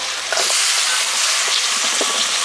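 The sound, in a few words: ginger-garlic paste and chopped tomato sautéing in pan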